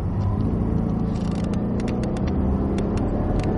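Cadillac CTS-V engine pulling hard at full power on a racetrack, a loud continuous low rumble and roar from inside the car with faint scraping ticks overhead.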